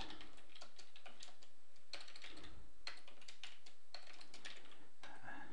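Fast, uneven clicking of keys on a computer keyboard, quiet and close, with short pauses between bursts of typing.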